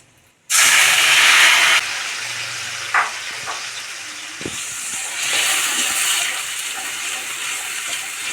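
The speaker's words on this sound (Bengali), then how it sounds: "ওই তেলের মধ্যেই প্রথমে বেটে রাখা আদা টমেটো ও কাঁচা লঙ্কা এই পেস্টটা প্রথমে দিয়ে দেব" A ground paste of ginger, tomato and green chilli drops into hot oil with a sudden loud hiss, settling into steady, close sizzling and spattering that carries on with no talking.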